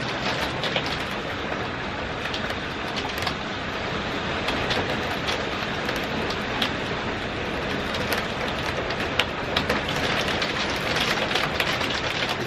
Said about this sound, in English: You can hear it on the windows.